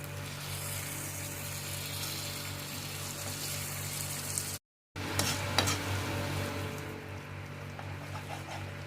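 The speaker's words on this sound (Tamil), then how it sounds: "நம்ம இந்த ஸ்டேஜில் தட்டி வச்சுருக்கிற மிளகு, சீரகம், கருவேப்பிலை இது எல்லாத்தையும் அதில் போட்டுட்டு கிண்டி விடலாம்" Cooked mutton brain with crushed pepper, cumin and curry leaves sizzles softly in a pan as it is stirred, a steady crackling hiss with scattered scrapes, briefly cut to silence midway, then resuming with a few sharper clinks; no talking.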